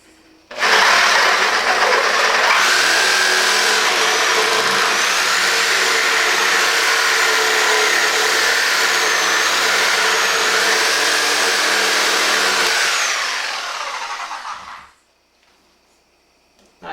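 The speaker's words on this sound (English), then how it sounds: "last thing I'm going to show you is the Sawzall" Close up and loud, a Milwaukee Sawzall reciprocating saw fitted with a metal-cutting blade buzzes and rasps through metal for roughly fourteen seconds in one steady run before winding down and stopping.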